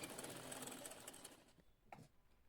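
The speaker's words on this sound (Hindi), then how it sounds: "अब हम इस पे सेफ्टी सिलाई लगा लेंगे।" A sewing machine stitches a blouse neckline with a rapid, faint whirring run of needle strokes that slows and stops, followed by a couple of soft clicks.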